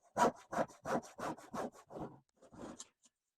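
A handsaw cuts wood along a kerf line for a half lap joint, making about seven close, crisp back-and-forth strokes, then a pause and a couple of lighter strokes.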